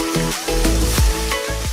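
Mustard seeds, cinnamon, cardamom, fenugreek, fennel seed, curry leaves, pandan, lemongrass and onion hit hot oil for a beef curry, giving a loud, steady sizzle close by with a few crackling pops and stirring scrapes.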